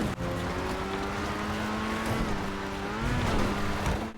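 Grotti Itali RSX sports car engine in GTA 5 Online, a steady high-revving drone with rising and falling harmonic pitch, loud and close throughout with no talk.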